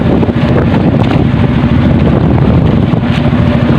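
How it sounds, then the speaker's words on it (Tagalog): Rough sea waves and strong wind batter a small fishing boat at sea. A loud, continuous roar of wind and water fills the whole stretch without pause, and no voices are heard. "Maalon."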